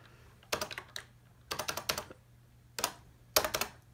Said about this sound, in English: If I can type here.